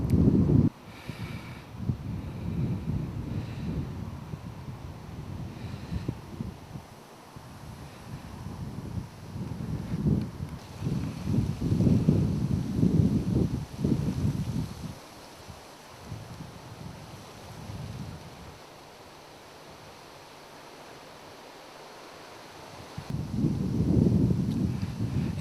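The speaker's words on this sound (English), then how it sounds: "The wind started again." Gusts of wind buffet a camcorder microphone outdoors beside a lake, loud rumbling bursts that come and go, easing to a quieter lull before picking up again.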